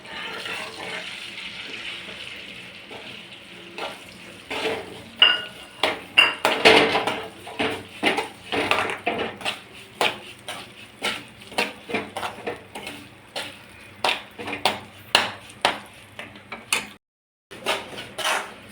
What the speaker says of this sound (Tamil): இப்போ நெய்யில் பார்த்தீங்கன்னா ரவை கொட்டிக்கணும்